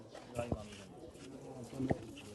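Racing pigeons at the Dhaka City Pigeon Club give two short cooing bursts close by, partly under people talking.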